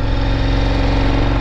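A KTM 1090 Adventure R motorcycle engine idles steadily with an even, throbbing low pulse, close and constant with no other sounds.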